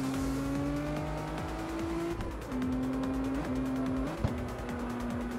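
A 32R car drifts in CarX Street with the Kanjo club, its engine droning and shifting pitch through gear changes while the tires squeal and skid in long continuous slides, with no talk over it.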